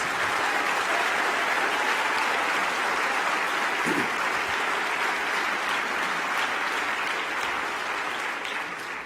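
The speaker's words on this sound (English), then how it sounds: "Let's give them another round of applause." Sustained, loud applause fills a hall during a university inaugural president's address, a dense, unbroken wash of clapping from a large audience lasting the whole stretch.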